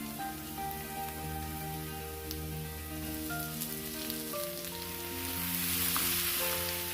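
Onion and tomato sizzling in a frying pan with a steady, soft crackle that carries on for the whole stretch, close by but fairly quiet, with no talking.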